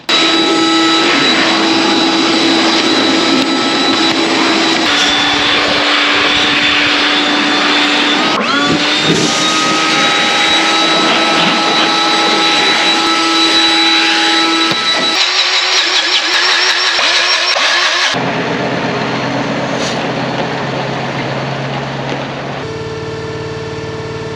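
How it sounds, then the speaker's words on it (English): An air seeder fan on a South Australian seeding rig blows leftover peas out of the system, making a loud, steady mechanical drone with a tonal whine that shifts pitch and drops in level partway through. "We'll give all that a quick blowout, and then we'll know all the peas are out of there"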